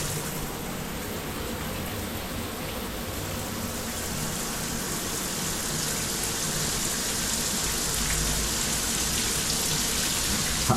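Shower head on its rain spray setting, water pouring steadily and evenly in a close, continuous hiss that holds at the same level throughout, with no voices.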